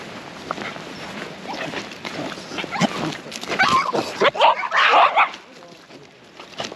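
A reactive dog named Archie squeaks and whimpers in a series of thin, high cries, loudest toward the end, mixed with rustling, footsteps and some background voices.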